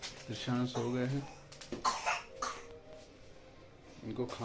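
A person coughing indoors, several short harsh coughs and throat sounds in a quiet domestic room.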